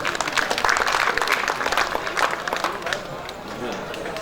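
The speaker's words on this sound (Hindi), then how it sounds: "यार बात अच्छी लगे तो ताली बजाते जाओ।" An audience claps for a speaker at an educational institution event, a dense burst of scattered hand claps that is loudest early and gradually thins out over a few seconds.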